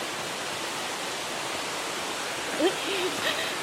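Steady broadband rush of a waterfall in a pine forest near Doi Bo Luang, Chiang Mai, constant and fairly close, with a few faint bird chirps or squeaks near the end.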